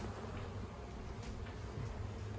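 Honey bees hum in a low, steady buzz close by in a hive, with no voices.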